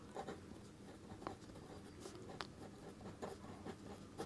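Chalk or marker scratches across a classroom board as a maths teacher writes out a matrix adjoint, a faint steady scrawl of short strokes and taps with room noise and no speech.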